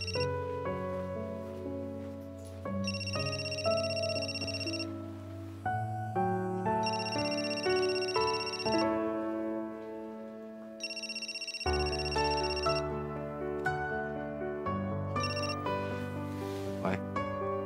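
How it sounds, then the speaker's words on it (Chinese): A melodic mobile phone ringtone plays continuously and loudly for about eighteen seconds, with a short break partway through before the tune starts again. "接电话。"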